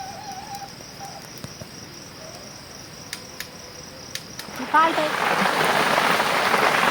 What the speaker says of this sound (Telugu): చూడ ఎట్టుందా వర్షం పడుతా ఉంది. ఆటే పడుతుంది వాన.